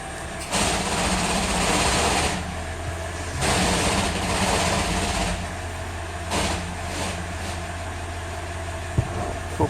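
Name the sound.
car engine idling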